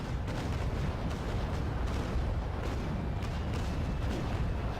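Ship cannons firing chain shot in a naval sailing battle game, a dense, loud wall of rumbling booms with repeated sharper reports breaking through at irregular intervals, no voices.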